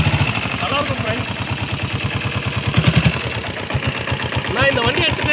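A 1984 Royal Enfield diesel Bullet motorcycle idles just after a kick-start, a close, loud, evenly thumping beat with mechanical clatter and slight wavering in pace.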